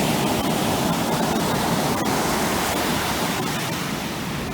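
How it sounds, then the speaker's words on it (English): Ocean surf rolling onto a beach makes a continuous, full roar of breaking water, steady and close, with occasional faint crackles and no speech. "Do you hear the ocean?"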